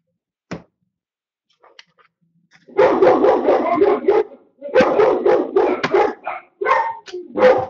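A dog barks and yips in rapid bursts, close and loud, starting with one sharp yelp and then running in dense volleys of barks with short pauses.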